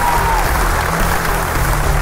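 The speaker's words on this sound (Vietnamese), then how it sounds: "chúng ta bây giờ sẽ dành những tràng vỗ tay sau" An audience in the studio of the Vietnamese television comedy show Ơn Giời Cậu Đây Rồi, season 6, breaks into steady, dense applause, loud and continuous throughout.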